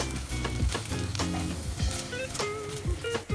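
Kimchi stir-fried in a hot pan with aromatics for Korean army base stew (budae jjigae), giving a steady close sizzle and frying hiss beneath background music.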